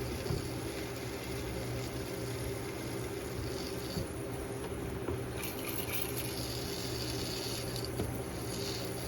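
Steady rushing of water pouring into an isopod enclosure, a continuous wash of liquid noise with no pauses, close by and fairly loud.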